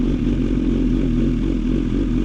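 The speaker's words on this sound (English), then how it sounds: "Akrapovic full exhaust system. And let's hear it." BMW S1000XR M Package motorcycle with an Akrapovic titanium full exhaust system idling after a warm start, a steady, loud, close low rumble with no talk.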